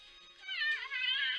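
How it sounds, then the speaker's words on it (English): A cat meows in the video game Trails of Cold Steel, two drawn-out, clear cries back to back, fairly close and without other sounds. "Lots of meows."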